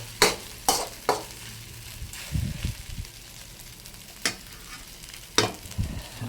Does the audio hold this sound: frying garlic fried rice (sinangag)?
yes